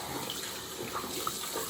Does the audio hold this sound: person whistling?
no